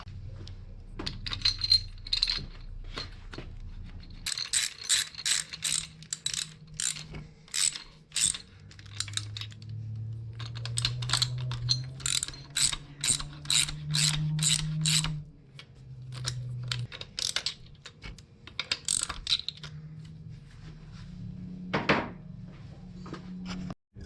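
A hand ratchet clicks in quick runs while bolting a fuel rail onto an Acura RSX engine, with crisp metallic pawl ticks in several bursts and brief pauses between them.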